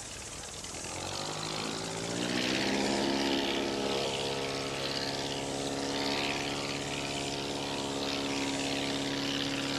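Volmer Sportsman amphibian aircraft doing a touch and go on water in a downwind crosswind, its propeller engine droning loud and steady, rising in pitch and holding near.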